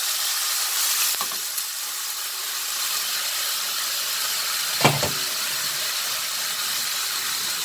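Pork cooking in a pot for Cuban-style roast, a steady close sizzle and frying hiss throughout, with a couple of brief clinks or stirring knocks.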